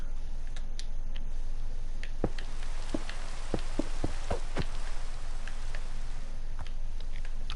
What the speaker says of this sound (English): I don't like rain.